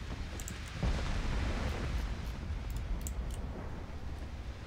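A deep, rumbling torpedo explosion in Ultimate Admiral Dreadnoughts, a sustained low roar after a sudden onset, with faint clicking above it.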